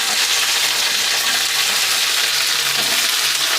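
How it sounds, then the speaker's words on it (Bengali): Bitter gourd and small potatoes fry together in hot oil, giving a steady, loud, close sizzle with a continuous hiss and faint stirring, with no talking. "এবারে এগুলো আমি দিয়ে দিলাম, একসঙ্গেই এগুলো সব ভাজবো।"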